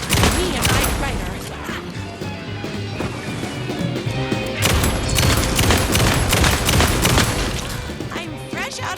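Loud, dense gunfire and impact bursts from the Alan Wake 2 video game, a continuous barrage of shots with crashes and booms over a busy game soundtrack, lasting throughout.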